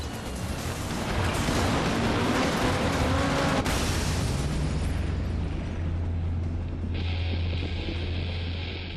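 Cars from the MotorStorm racing game crash loudly with a dense, booming roar of impacts and flying debris. A sustained low engine drone follows, and a steady high whine runs through the final seconds.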